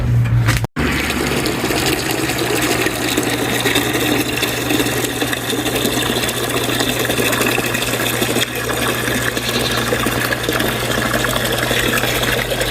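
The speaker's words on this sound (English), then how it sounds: "Alright, I'm gonna go fill their water now." Water runs steadily into a chickens' water container on a farm at night, a loud, continuous rushing flow with a low hum beneath it, and a brief cut near the start.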